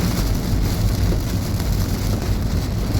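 Dense, steady pattering of hail and heavy rain drumming on a car body during a supercell thunderstorm in Cestas, a constant loud rush with no voices.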